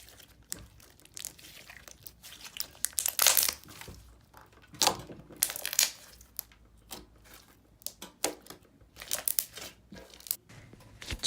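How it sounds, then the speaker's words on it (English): Thick, glossy, chocolate-scented brown slime is stretched and popped up close, giving quiet, irregular crackles, squishes and small bursting pops with occasional louder clusters. "I love how glossy and thick it is, yet it's super stretchy and really good for bubble pops"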